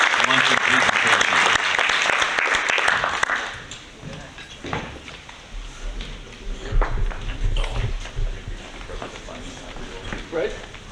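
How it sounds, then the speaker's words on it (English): Applause from a heritage cultural tourism conference audience after a luncheon presentation, loud and dense for about three seconds before thinning into scattered claps and room noise with some talk. "how about a nice round of applause for these three gentlemen?"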